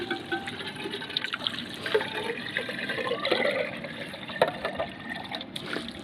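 Water runs in from a pipe into a pond-like kund on the Narmada parikrama route through forest, a continuous trickling, splashing flow heard close by without speech.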